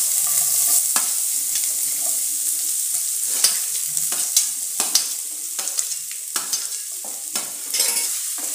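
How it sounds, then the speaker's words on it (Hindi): Finely chopped onion for poha fries in hot oil in a pan, a steady close sizzle broken by repeated scraping stirs of a spoon against the pan, with no talking. "और हल्का सा प्याज को भून लेंगे।"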